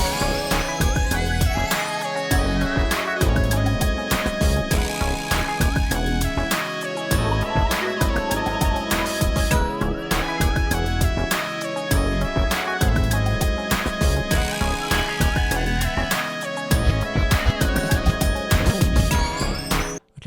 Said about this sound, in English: how to make a 90s and 2000s G-Funk type beat